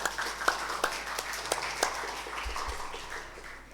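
A school halal bihalal gathering breaks into a short burst of scattered clapping from a modest crowd, faint and somewhat distant, the claps loosening and thinning toward the end.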